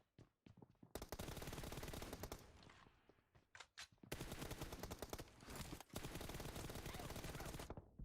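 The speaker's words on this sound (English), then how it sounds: "Oh my god, I'm shooting bad here." Loud bursts of automatic gunfire from PUBG Mobile play in long sustained volleys, broken by short gaps and single shots, close and dominant throughout.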